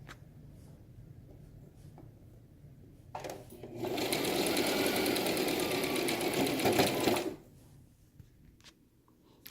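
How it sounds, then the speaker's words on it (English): Sewing machine stitching fabric on a custom mascot head, running in one steady, loud, fast-chattering burst of several seconds, close up, with quiet handling before and after. "I will have to feed it in, and I'm going to start sewing."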